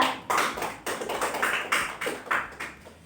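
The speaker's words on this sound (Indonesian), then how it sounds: "Kita beri aplaus untuk kelompok 2." A classroom group of students gives a round of applause for a student group, a steady patter of many hands clapping in a room, moderately loud throughout.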